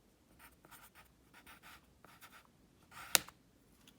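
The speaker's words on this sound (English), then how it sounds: "Oops, just broke my pencil." A pencil scratches across paper in short, quiet bursts while someone works a geometry problem, then a single sharp, close snap rings out as the pencil breaks. No one speaks.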